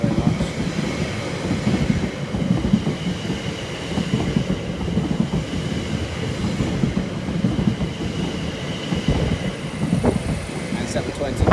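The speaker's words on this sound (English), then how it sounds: "passing through now is going to be a double grey triangular 720" A Class 720 electric train passes through Bethnal Green station during the evening rush hour, a steady loud rumble of wheels and carriages that runs for the whole stretch with clickety-clack on the rails.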